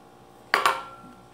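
Two quick metallic clinks close together, a utensil knocking against a pot while sugar and grated coconut go in for corn pudding, then a quiet kitchen room tone.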